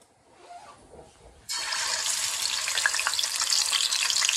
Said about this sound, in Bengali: তারপর আমি মাছ ভাজবো